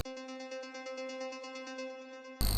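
A bright, buzzy synth arpeggio in FL Studio with a complex electro house preset: rapid, evenly pulsing notes over a steady sustained harmonic tone, loud and alone, ending in a brief burst of noise.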